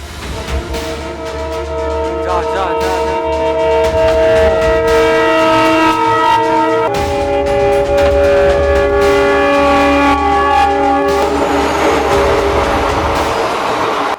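A train rumbles loudly and steadily close by while its horn blares in sustained, layered tones through most of the stretch, setting the scene for a rail crossing accident.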